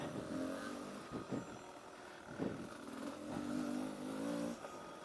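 A KTM 300 dirt bike being ridden, its engine revving and droning steadily with rises and dips in pitch, fairly distant, with no talk over it.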